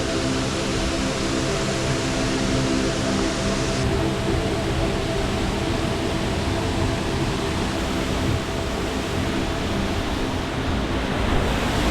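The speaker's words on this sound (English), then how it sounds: "There's the waterfall." A waterfall in the Brecon Beacons, Wales, roars as a dense, constant wash of broadband noise, loud and close, with no voices over it.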